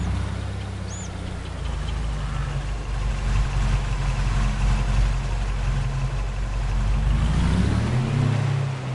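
A farm truck engine runs steadily with a low, droning rumble that swells slightly near the end, heard up close with no talking.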